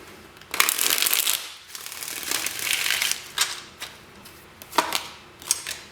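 Tarot cards are shuffled by hand, close up, in a few crisp riffling bursts followed by shorter, softer shuffles and taps, with no one talking.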